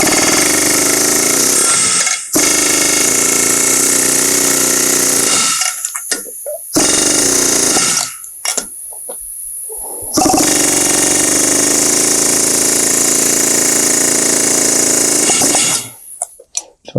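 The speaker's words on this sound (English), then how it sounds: "I like to go back to my air hammer again." An air hammer drives roll pins flush into a John Deere 40 or 90 Series corn head with a loud, rapid pneumatic rattle in several long bursts separated by brief pauses.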